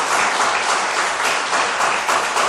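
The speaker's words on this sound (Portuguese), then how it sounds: "Vamos dar uma salva de palmas para Jesus" A church congregation claps together during an evening service, a loud, dense round of applause that keeps an even, steady level throughout.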